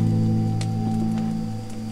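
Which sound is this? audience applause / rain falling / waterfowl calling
rain falling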